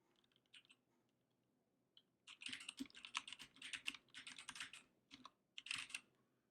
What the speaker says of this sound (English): now we're able to type whatever text we want